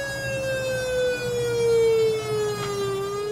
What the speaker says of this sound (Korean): 공습경보 사이렌은 울릉도 마을마다 설치된 스피커를 통해 2분여간 울렸습니다